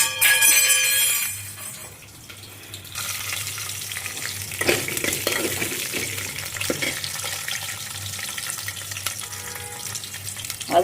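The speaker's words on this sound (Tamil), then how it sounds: "வெந்தயம் பொரிஞ்சது வெள்ளைப்பூண்டு போட்டுக்கோங்க." Fenugreek seeds and garlic sizzling in hot oil for an Andhra-style okra tamarind curry, a steady close frying crackle with scattered pops and stirring scrapes, with no talk.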